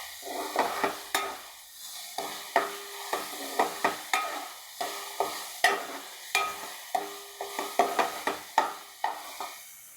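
Pieces fry in a hot pan with a steady sizzle while a spoon stirs them, giving about a dozen rhythmic scraping strokes, close and clear, with no voices.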